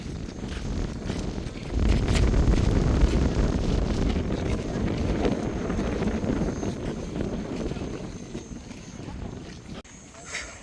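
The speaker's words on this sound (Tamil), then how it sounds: "இதை காற்று அடிச்சு கொண்டே இருக்குது." Strong wind buffets the microphone outdoors at a crowded church site, a continuous rumbling roar that swells and fades, with people talking underneath.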